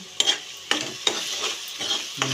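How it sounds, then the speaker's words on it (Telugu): Onions frying in a pan for a home-cooked okra pulusu, with a steady broadband sizzle broken by several sharp scraping stirs of a spoon against the pan, close and fairly loud, no talking. "ఉల్లిపాయలు మగ్గుతున్నాయి"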